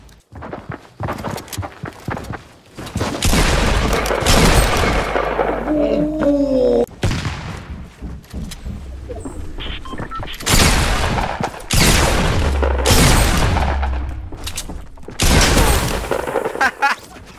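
Video game gunfire in loud, close bursts of rapid shots broken by short pauses, with thuds, footsteps and player voices talking in between.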